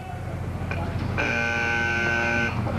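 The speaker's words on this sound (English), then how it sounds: "Right there, you heard a buzzer." A steady electronic line-foul buzzer at a downhill skateboard and street luge start drones for over a second above a noisy crowd and echoing ambience, then cuts off abruptly.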